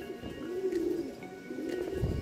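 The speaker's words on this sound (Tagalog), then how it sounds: "May ibon kasi ron eh." A pigeon coos twice nearby, low rolling calls over soft outdoor background noise at a race event, with no talking.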